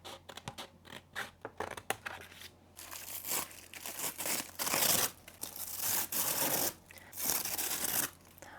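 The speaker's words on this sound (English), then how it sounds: "I think I'm just going to rip that off and use that as the background." Paper is torn and ripped off in bursts for a journal background, with close crinkling, scratching and tearing rustles, a few quick snips earlier, and no talking.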